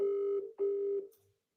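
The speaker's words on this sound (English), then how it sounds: "Pick up your phone, Matisse, bro." A telephone call tone sounds as two steady electronic beeps, each about 0.4 seconds long, separated by a brief gap and heard alone without talking.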